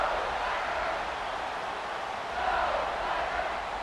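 Stadium crowd in EA Sports College Football 26, a continuous dense roar of yelling fans that swells slightly partway through, heard alone without commentary.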